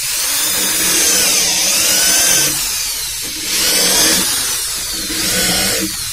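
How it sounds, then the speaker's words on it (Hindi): An electric drill bores holes in a speaker cabinet for a DJ sound box, its motor whining loudly and continuously up close, rising and easing in pitch as the bit bites into the wood. "इसको ड्रिल मशीन से ऐसा करके छेद कर देना है"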